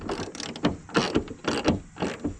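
A wrench ratchets in quick clicking bursts while loosening the rear hood nut on a Mustang GT during a hood strut install, with about five rhythmic bursts close by and no talk.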